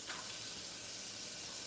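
French fries sizzle steadily in beef tallow inside a Fry Daddy deep fryer, a dense continuous hiss with no talking.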